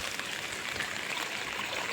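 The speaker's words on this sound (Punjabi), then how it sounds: "ਬਾਕੀ ਇੱਧਰ ਵੀ ਦੇਖ ਲਓ ਬਈ ਕਿੰਨਾ ਮੀਂਹ ਫੁੱਲ ਚੱਲ ਰਿਹਾ" Heavy nighttime rain pours down around a house with a leaking concrete slab roof, a steady broadband wash of falling water and running runoff, close and unbroken throughout with no voices.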